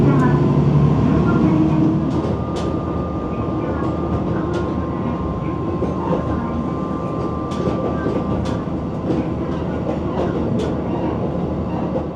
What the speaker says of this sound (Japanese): 列車は阿蘇外輪山の最高地点を目指して一気に坂を駆け上がります。